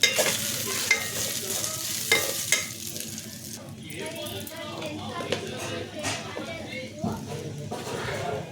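Corn fritters sizzle steadily in hot oil, with stirring clinks and scrapes against the pan and a voice talking faintly in the background.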